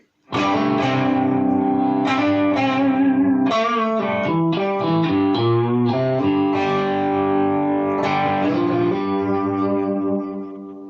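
Electric guitar through a Bugera 333XL Infinium 120-watt amp, two pickups in a bright, quacky out-of-phase tone, gain at halfway, strummed chords and riffs ringing out steadily for about ten seconds.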